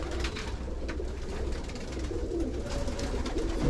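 Pigeons coo steadily inside a loft housing tipplers, fantails and Italian owls, with soft overlapping bird calls and a constant low rumble throughout, close and moderately loud.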